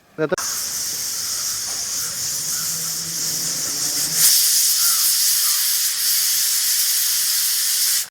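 A pressure cooker on the stove, cooking jackfruit and green gram stir-fry, blows its whistle: a loud, steady hiss of escaping steam that sharpens and grows brighter partway through and continues to the end.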